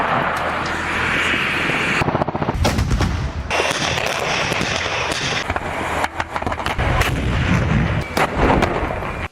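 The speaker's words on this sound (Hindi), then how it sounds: "रूस की आर्टिलरी के भयानक हमले यूक्रेन की रक्षा पंक्तियों की धज्जियां उड़ा रहे हैं" Russian artillery fire in Ukraine war footage: a dense, loud barrage of heavy booms and crackling blasts, with bursts layered close together and a brief lull before the pounding resumes.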